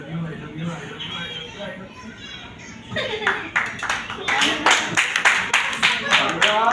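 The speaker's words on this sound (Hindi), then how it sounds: "और 21 बार जोरदार तालियां।" Loud group clapping in a lively household game gathering breaks out after about three seconds, a dense run of sharp claps and cheers that grows stronger toward the end, with quieter voices chattering before it.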